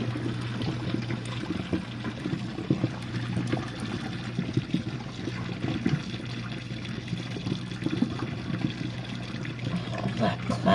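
A Jenn-Air dishwasher runs a full load of dishes, giving a steady close hum with continuous sloshing and trickling water throughout, no voices over it.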